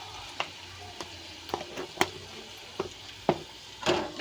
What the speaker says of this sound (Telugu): ఇలా బాగా కలుపుకోవాలండి